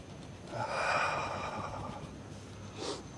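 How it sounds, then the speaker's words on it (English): Hands rub together during qigong practice, making a soft, close swishing friction that swells and then fades, followed by a short second rub. "rubbing hands"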